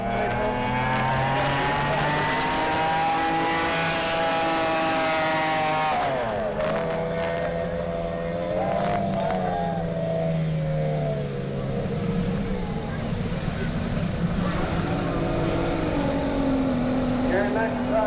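Racing boats launch at the start of a race on Lake Tholocco, their engines roaring loudly and climbing in pitch together, then a sustained, overlapping drone as they speed off, with a voice faintly beneath.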